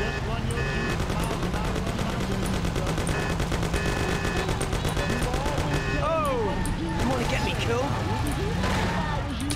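Rapid bursts of video game gunfire from Mafia crackle steadily for several seconds, mixed with in-game driving noise and overlapping players' voices.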